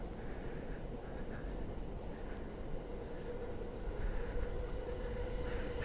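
A commuter train passing along an elevated line in Tokyo at peak hours, a steady broadband rumble that holds throughout and swells slightly toward the end, heard from nearby street level with city ambience.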